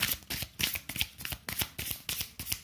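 Tarot cards shuffled by hand in quick, even riffling bursts of crisp papery flicks, roughly one every quarter second, close and clear with no talking.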